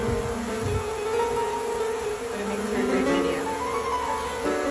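A swarm of honeybees buzzes in a steady, dense drone that fills the air, loud and close, with no talking heard.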